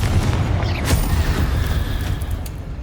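A Confringo fire spell blasting in the game Hogwarts Legacy inside a tomb, a loud rumbling explosion with a sharp burst near the start and sustained low roar throughout.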